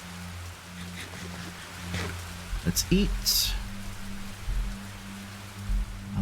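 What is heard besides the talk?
rain falling in video game Minecraft Betweenlands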